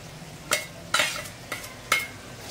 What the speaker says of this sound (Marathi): व्यवस्थित अशी आपण पेस्ट मिक्स करून घेऊया.